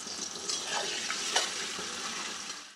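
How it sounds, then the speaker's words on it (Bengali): Prawns frying in hot oil in a home kitchen give a steady, close broadband sizzle throughout, with a few brief crackles and no talking. "এবার ওই তেলেই চিংড়ি মাছগুলো ছেড়ে দিয়ে ভেজে নেওয়া হচ্ছে।"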